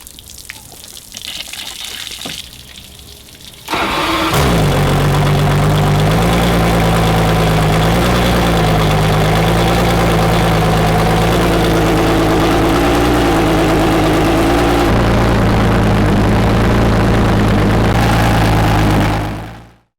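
An outboard boat engine, flushed with a running hose, cranks and catches, then idles loudly and steadily with a low droning hum, running water splashing throughout.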